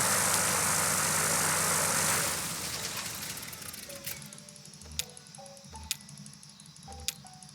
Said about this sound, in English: I hear the plane going now.